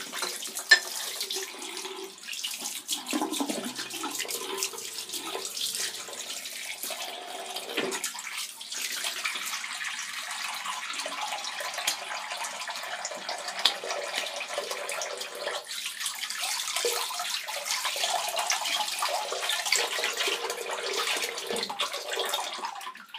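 A tap runs into a sink to rinse out shaving water. The rush of water stays steady and close for over twenty seconds with slight splashing changes, and no one speaks.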